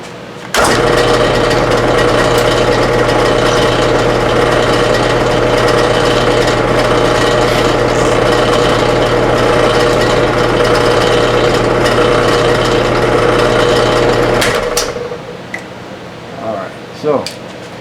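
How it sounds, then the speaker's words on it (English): A milling machine drilling a hole hums and whirs steadily for about fourteen seconds, then cuts off, leaving faint clicks and quiet handling noises. "we're going to drill good old hole number 2"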